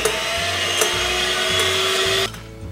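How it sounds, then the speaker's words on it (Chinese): An electric mixer whips egg whites for a sponge cake at low speed, giving a steady, close motor whine with a faint rhythmic pulse before it cuts off shortly before the end. "现在我们开始打发蛋清，先把蛋清打发成鱼泡状"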